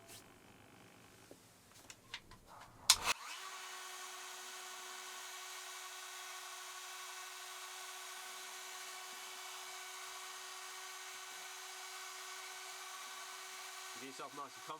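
A Dremel rotary tool fitted with a burr spins up after some brief handling noises, then holds a steady, close, high-pitched whine while engraving for about twelve seconds.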